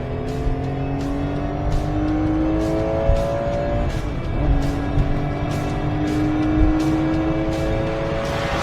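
Singer-modified Porsche 911 revving loudly, engine pitch climbing steadily then dropping at downshifts before rising again, a sustained close mechanical roar with no speech.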